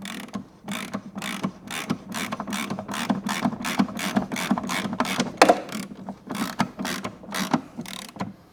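Ratchet wrench tightening a bolt on a Toro Timemaster lawnmower, a long run of evenly spaced sharp clicks close up, with a short metallic squeak midway and no talking.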